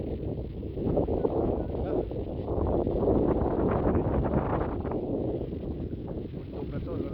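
Strong wind gusting on a mountaintop, a low, continuous rumbling roar buffeting close against the microphone, with faint muffled voices beneath.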